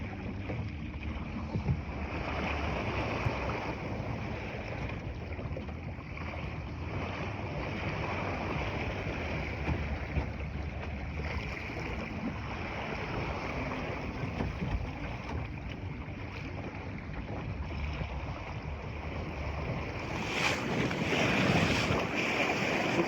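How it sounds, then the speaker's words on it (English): Wind rushes over open water around a Sunfish sailboat, with steady buffeting microphone wind noise and lapping waves throughout, growing louder and gustier near the end, with no voices. "I'd say it's smoothed out, but there's still some wind left here"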